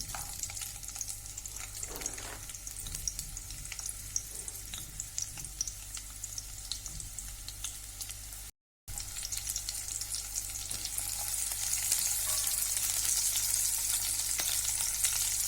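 Chopped onion frying in a pan for veg cutlets gives a steady, close hiss and sizzle that swells louder and brighter partway through, briefly cutting out before resuming, with no voices.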